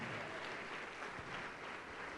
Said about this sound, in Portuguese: vamos aplaudir mais ao nome do Senhor